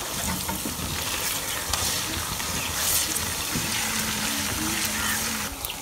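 Green chillies with ginger garlic paste frying in a pan, a dense, close sizzle running steadily throughout with faint stirring and no speech.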